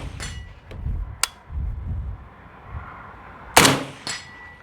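Sharp, loud reports from a PSA 300 Blackout rifle firing 200-grain MagTech subsonic rounds at a 100-yard range in strong wind, several widely spaced cracks with wind rumble between them.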